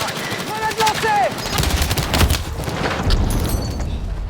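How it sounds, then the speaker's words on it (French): Battlefield 6 combat with rapid machine-gun fire and a grenade blast rumbling under the shooting, loud and close, with a voice briefly heard amid the bursts. "Grenade lancée!"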